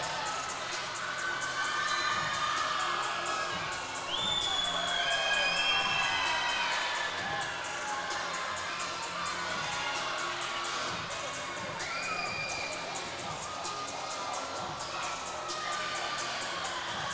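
A home crowd at a Yellville basketball game cheers and shouts in a constant mid-distance roar, with scattered whoops and children's shrieks rising above it and no clear talk.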